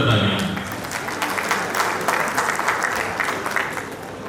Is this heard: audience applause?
yes